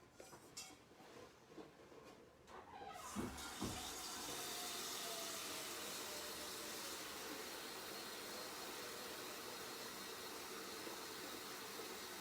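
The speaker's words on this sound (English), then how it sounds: "you're going to have to fill your pot with some water." Tap water runs steadily into a cooking pot being filled for spaghetti, a constant rushing hiss after a few seconds of lighter clatter and splashing at the start, close and loud with no talk.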